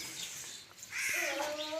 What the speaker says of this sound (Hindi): इतने सारे कौवे और परिंदे ये आ गए पानी पीने के लिए